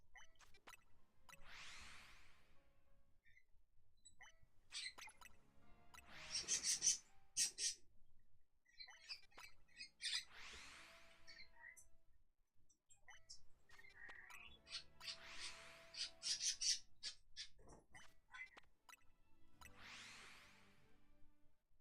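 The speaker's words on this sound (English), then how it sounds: "Why are my birds going insane?" Pet birds indoors burst into excited squawks and chirps every few seconds, each flurry short and shrill, sounding faint and somewhat distant with quiet gaps between calls.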